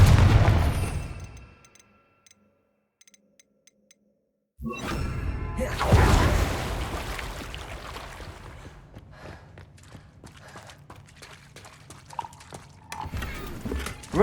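Confringo blasting spells in Hogwarts Legacy set off loud, close explosive bursts. An opening blast fades into near silence, then a second eruption hits and decays into a rumbling, crackling tail with scattered hits and clatter.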